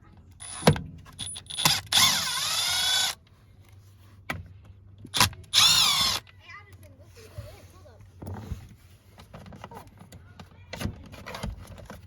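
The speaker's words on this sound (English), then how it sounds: "if you have a long enough 25 bit, you can use a drill" A drill drives Torx 25 screws beneath a Volvo steering column, with several short whirring bursts between quiet pauses, clicks and rustling near the listener.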